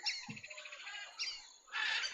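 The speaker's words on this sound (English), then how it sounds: "The birds are too loud." Birds chirp loudly and close by in rapid, repeated calls, with a brighter burst of chirping near the end and no talking.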